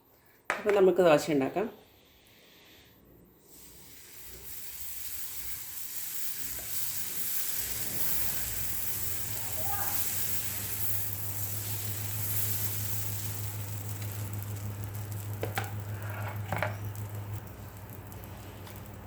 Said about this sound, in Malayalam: അപ്പോൾ ഇതുകൊണ്ട് നമുക്ക് ദോശ ഉണ്ടാക്കാം